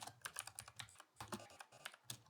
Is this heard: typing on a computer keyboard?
yes